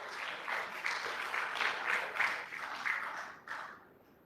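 Applause at a research foundation launch and fundraising event, a steady, fairly faint wash of clapping that fades near the end.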